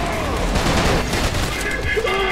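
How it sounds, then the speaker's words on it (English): Rapid bursts of gunfire and booming explosions crowd together in a loud, chaotic barrage, with Trepang2 game sound effects layered throughout. "explosions everywhere"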